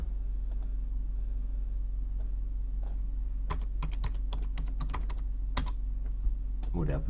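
A password being typed on a computer keyboard at a Mac Mini 2018: scattered keystrokes, sparse at first and then a quicker cluster, close and clear over a steady low hum.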